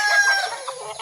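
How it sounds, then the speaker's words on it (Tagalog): Chickens cluck and squawk busily at close range, a continuous dense cluster of calls through the whole second, with no talk. "Awa guys, may mga chicken guys."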